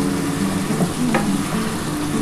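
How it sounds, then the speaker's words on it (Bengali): Chicken sautés in a pan for a chili-chicken-style curry, with a steady close sizzle and spatula stirring throughout and no voices. "এটা একটু ভালো করে আগে কষিয়ে নিই বন্ধুরা"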